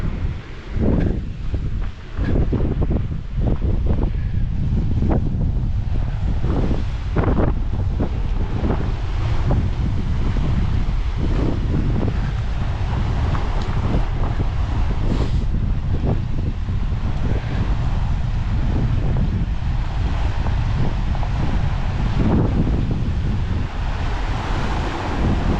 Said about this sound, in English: it might be just too windy, and I don't want to lose it